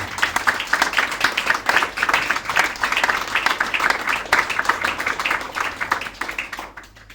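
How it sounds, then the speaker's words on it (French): Audience applause at a studio inauguration in Toulouse, steady dense clapping for several seconds that thins and fades at the end. "on va vous applaudir"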